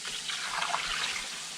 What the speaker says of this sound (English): we're going to need probably another big scoop of water